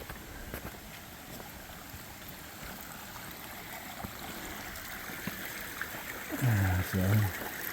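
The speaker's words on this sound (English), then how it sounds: "Sounds like we got a little stream coming up now." Steady trickling of a small stream, a soft continuous wash of water heard close by, with a brief low hum near the end.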